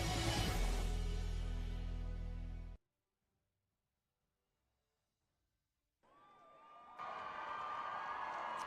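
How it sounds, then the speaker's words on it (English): Stadium crowd at a 2018 high school football bowl game between Sayreville and Williamstown applauds an injured player getting to his feet. A loud roar of cheering cuts off into silence, then the crowd noise swells back up. "A good sign there is a round of applause as Inge gets to his feet"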